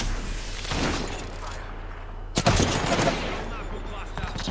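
Gunfire in the video game Apex Legends during a ranked squad match: bursts of rapid automatic shots, then a sharp loud crack followed by more firing, with a player talking over the action.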